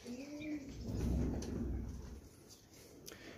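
A female Dubai pigeon giving a soft, low cooing call near the start, faint against a quiet room with a few light knocks and shuffles.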